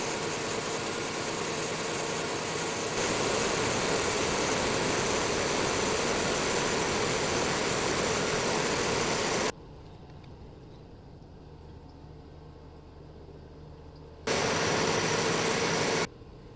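A manual mill boring out a part with a boring bar to 0.945 on an Excello-type mill: loud steady broadband machining drone for about nine seconds, then a sudden drop to a low quiet hum, and a short loud burst returning near the end.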